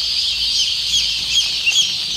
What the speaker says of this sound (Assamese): এইটো হৈছে অৰিজিনেল চিল্কি মুৰ্গীৰ পোৱালি